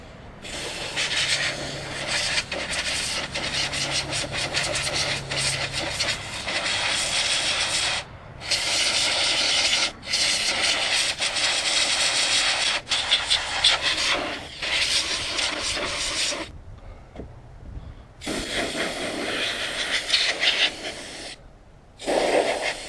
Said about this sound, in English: I'm blowing a lot of dust out of there.